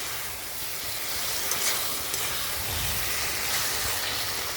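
Water poured into a hot pan of fried vegetables and spices sets off a steady, fairly quiet sizzle and steamy hiss that carries on evenly without pause.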